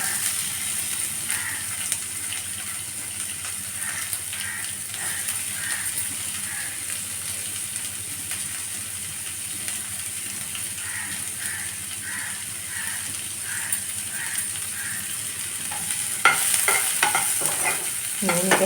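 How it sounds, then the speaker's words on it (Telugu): Thinly sliced onions fry in oil in a kadai, giving a steady close sizzle throughout with occasional stirring scrapes, growing a little louder near the end. "ఇదే కడాయిలో మనం మళ్ళీ సన్నగా తరిగి పెట్టుకున్న ఉల్లిపాయ ముక్కలు వేసేద్దాము."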